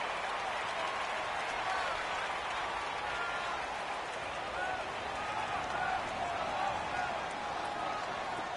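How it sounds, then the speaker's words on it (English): A stadium crowd roars in a PS4 American football game ahead of a big third down, a broad, steady wash of cheering that holds at an even level throughout, with no distinct individual voices. "The crowd getting into it as we come up on a big third down."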